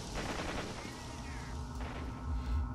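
Gunfire from the video game STALKER: Shadow of Chernobyl in an abandoned Pripyat setting: a burst of shots heard faintly beneath a continuous rumbling background, somewhat muffled and distant-sounding.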